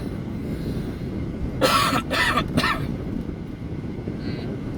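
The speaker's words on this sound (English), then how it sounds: "You ever have one of those times you gotta cough and sneeze at the same time?" Three quick, harsh coughs in a row at close range, followed by quiet background hiss.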